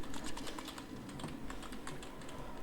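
Quiet, rapid keystrokes clatter on a computer keyboard during a Dying Light 1 game session, an even run of light clicks at low level with no voices.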